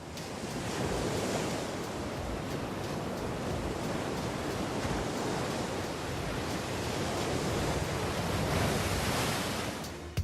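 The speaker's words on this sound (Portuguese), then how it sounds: "As grandes ondas que atingem a costa são obviamente espetaculares e um pouco assustadoras." Huge ocean waves breaking at Jaws, a continuous loud roar of surf and churning water that swells and holds steady throughout, with some wind noise on the microphone and no voices.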